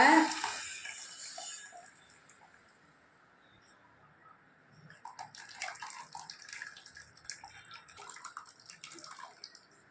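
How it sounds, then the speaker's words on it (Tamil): Tamarind water poured into a pot of rohu and tilapia fish curry base, a bright splashing gush at the start, then quieter liquid sounds and a louder patch of bubbling and splashing in the second half. "இப்போ புளி தண்ணி தேவையான அளவு ஊற்றிக்கலாங்க"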